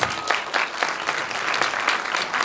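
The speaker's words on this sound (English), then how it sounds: "let's give Adam a round of applause" An audience at a city council candidate debate in Orem applauds the host, Adam Robertson of the Scera, with steady, dense clapping that fills the room for a few seconds.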